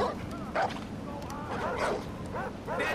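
Dogs in the video game Far Cry 4 bark and yip in short bursts over a steady background of game ambience, moderately loud, with someone speaking at times.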